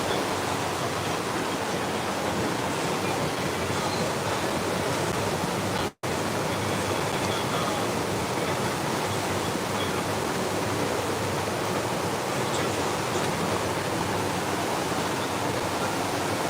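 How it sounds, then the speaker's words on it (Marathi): A small waterfall pours in heavy rain, giving a dense, constant roar of rushing water that stays loud and close from start to end with only one brief dropout and no voices. "एक नंबर असे व्ह्यू आणि हा मिनी धबधबा पडतोय बघा"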